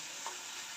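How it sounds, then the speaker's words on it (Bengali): Banana stem (thor) frying in a pan in a home kitchen, a steady hiss of hot oil that is close and even, with one faint stir. "আর এই যে থোর ভাজা হচ্ছে।"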